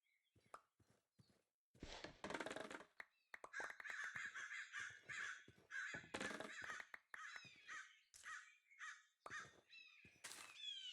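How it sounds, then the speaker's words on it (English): Crows caw repeatedly through Minecraft ambient sound, several overlapping harsh calls at moderate distance, mixed with rustling, light clip-clop steps and other soft game noises, no talking. "Those crow, or like the ambient sound that I'm using, is very realistic and I really love it."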